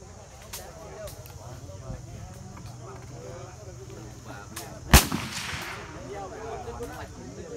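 An AK-47 rifle firing live rounds: one sharp, loud gunshot crack stands out with a brief echo tail, amid background chatter and movement noise.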